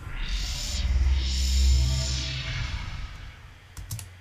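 Synth notes through a fully wet cathedral reverb, drenched in long, washy reverb that swells and blurs into a spacious tail, with a few clicks at the end.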